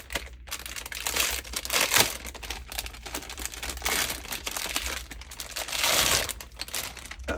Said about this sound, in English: it's wrapped in plastic, so you guys will have to forgive the noise